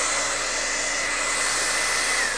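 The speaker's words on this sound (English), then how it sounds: "But you're going to blow dry your candle." A hair dryer on a high setting blows steadily at a wax-paper-covered candle, a loud, constant, close whooshing hum that does not change and has no speech over it.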